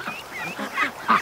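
Ducks raised at home waddle back from a lake with a few short, close quacks and honks in quick succession, getting slightly louder toward the end.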